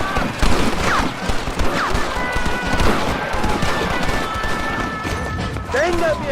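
Bursts of gunfire in the video game Red Dead Redemption, a dense, loud fusillade of shots mixed with shouting voices and game music, continuous through the scene.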